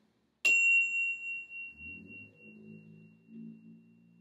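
A classroom chime is struck once and rings out with a clear, sustained high tone that slowly fades, while soft low murmuring sounds faintly in the background.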